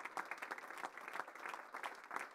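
An audience at a football awards ceremony in Alsace applauds, a soft, steady patter of many hands clapping, heard at a distance without speech.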